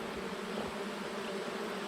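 Honey bees buzz around an open hive during a late summer split with smoke in the air, a faint continuous hum of many wings close by, steady and without voices.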